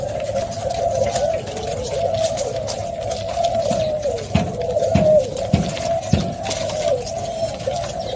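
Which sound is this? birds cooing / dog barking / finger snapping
birds cooing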